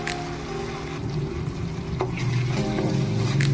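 Spice paste of ground nuts, melon seeds and yogurt frying in a pan for a vegetable paneer curry, a steady soft sizzle with faint stirring scrapes, close and continuous, no talking.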